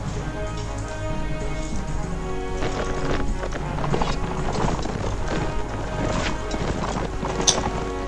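Horse hooves clatter through a battle in a medieval war game featuring the Swadian and Nord factions, a dense continuous drumming mixed with clashing combat noise at steady, fairly loud volume.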